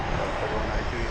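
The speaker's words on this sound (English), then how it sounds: "So you hear the One World livery blasting off there in the background" A oneworld-livery airliner takes off at DFW Airport, a steady, loud broadband engine roar that fills the whole moment without letup, with no talking.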